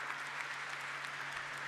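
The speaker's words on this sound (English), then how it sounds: "So let's give him a big round of applause." An audience at a jewellery company's stock listing ceremony applauds steadily, a soft continuous wash of clapping with a low steady hum underneath.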